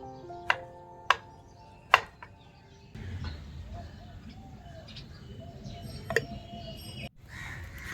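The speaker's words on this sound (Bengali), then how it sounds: "বেগুনগুলো ছোট ছোট করে কেটে নিচ্ছি" A knife chops eggplant into small pieces in a Bengali home kitchen, giving three sharp, close knocks in the first two seconds, followed by a steady background murmur with faint bird calls.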